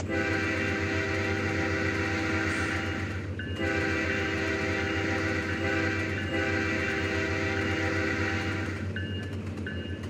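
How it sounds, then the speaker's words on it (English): A locomotive horn in the Trainz train simulator game blows long, steady, loud blasts, held almost continuously with a brief break partway through, over a low rumbling engine drone. "So I'm just blowing my horn, acting like as if there was a crossing right there."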